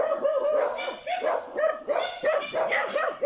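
Dogs bark insistently and aggressively in quick, overlapping volleys, close by and loud, with a few higher yips mixed in.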